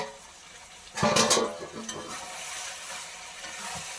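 Food sizzling and frying in a pan on the stove: a continuous hiss with a louder clatter of stirring about a second in, settling back to a steady crackle.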